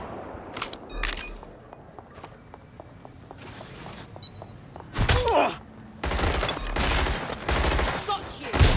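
Gunfire in the video game Watch Dogs Legion, with several separate loud, close bursts of rapid shots broken by quieter gaps holding faint clicks and steps.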